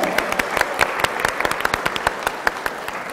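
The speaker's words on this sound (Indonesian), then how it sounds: "Tepuk tangan dulu." An audience claps at a talk on study tips and overseas scholarships, with sparse, distinct handclaps in a quick, uneven rhythm at moderate loudness.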